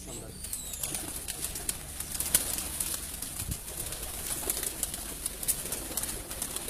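Tournament-winning pigeons on a rooftop in Sheikhupura cooing softly in the distance, with an occasional flutter of wings over a quiet background.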